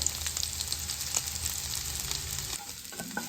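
Baby potatoes roast in a hot pan with a sprinkling of kasuri methi, giving a steady close sizzle and crackle with occasional stirring scrapes that ease off near the end.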